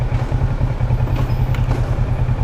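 A motorcycle engine idles close by, a loud, steady low rumble with a rapid pulsing beat and faint mechanical clatter, no voices over it.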